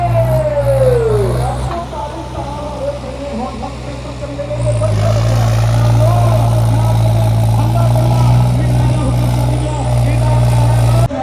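A loud Swaraj 744 tractor engine idles and revs with a steady low rumble, growing heavier midway, with people talking over it.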